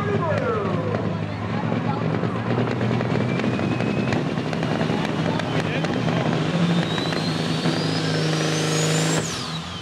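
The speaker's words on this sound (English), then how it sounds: "That looks and sounds like a turbocharger." A big rig truck at a truck show in Langford, New York revs its engine hard, the roar rising with a climbing turbocharger whistle before cutting off abruptly near the end.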